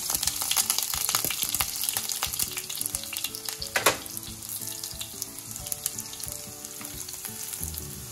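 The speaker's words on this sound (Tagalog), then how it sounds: "So let's add oil. Okay, 3 tablespoons of oil. Let's add our garlic." Garlic frying in about three tablespoons of oil, a dense crackling sizzle throughout with a sharper burst partway through, close and steady.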